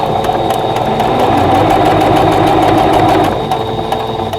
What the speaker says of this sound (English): and then sew your seam